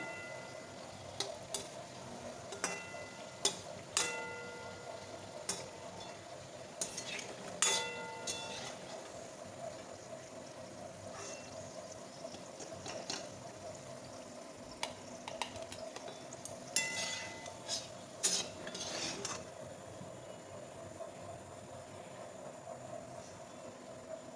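Jackfruit fritters (phuluri) frying in hot oil, a soft steady bubbling sizzle with scattered sharp clinks and scrapes of a utensil, fairly quiet and close.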